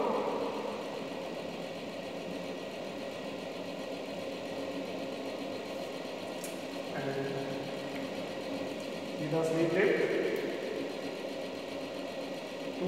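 A universal governor experiment apparatus runs with a steady mechanical whir and hum at moderate level, its pitch shifting slightly as the speed is raised, with a brief louder surge near the end.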